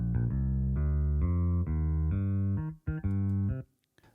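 Two layered bass guitar tracks, one fluffy and one high-passed to bring out the fingers, both run through software amplifiers, play a short phrase of sustained notes alone and clear before stopping abruptly.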